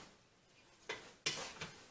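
A spoon scrapes and stirs through a thick sloppy joe meat mixture in a pot, giving a few soft, close swishes and scrapes over a quiet background.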